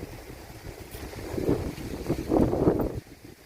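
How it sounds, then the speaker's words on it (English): Strong outdoor wind buffets the microphone in uneven, rumbling gusts across a garden field of sunflowers, swelling louder midway before easing off. "The wind's really getting up, guys, sorry about that."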